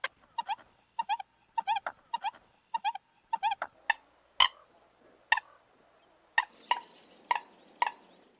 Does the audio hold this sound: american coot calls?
yes